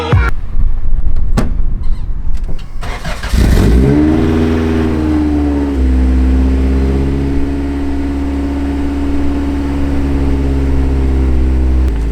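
A Honda Civic Si engine, fitted with a B/D series setup and running an exhaust with no resonator, cranks to life and then settles into a loud, steady, droning idle after a few seconds of clunking and rustling.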